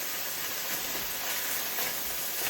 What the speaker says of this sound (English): That's now frying.